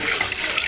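Raw chicken washed under running water, a steady close splashing rush of tap water and wet rinsing with no pauses.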